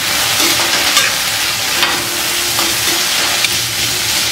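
Aloo gobhi, potato and cauliflower, stirred in a hot pan, with loud continuous sizzling and frying plus repeated scraping strokes of a spatula close up, no voices.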